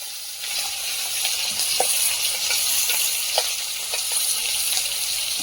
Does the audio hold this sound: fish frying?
yes